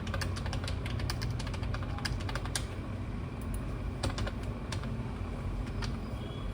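Steady, rapid keystrokes on a computer keyboard while a mobile number is entered in an online UPSC NDA/CDS registration form, close and continuous with no talking.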